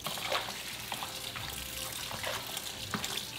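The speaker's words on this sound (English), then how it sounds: "Rinse the napa cabbage in running water." Tap water runs steadily into a sink while napa cabbage is rinsed under the stream, splashing and trickling up close with occasional clinks.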